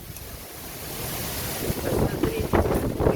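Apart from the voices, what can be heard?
strong wind and heavy rain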